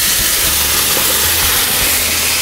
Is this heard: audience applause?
no